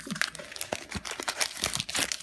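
A Pokémon Evolutions card pack wrapper being opened, with close, continuous crinkling and tearing of foil plastic, several sharper crackles along the way.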